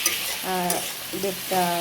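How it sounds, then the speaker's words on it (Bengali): Mixed vegetables with whole black peppercorns frying and stirred in a pan, a soft sizzle under repeated scraping strokes in three short bursts, close by. "এইরকম যখন সবজিটা ভাজা হয়ে আসে, খুব সুন্দর গন্ধ আসে।"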